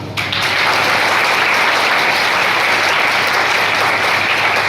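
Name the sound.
applause at district sports competition ceremony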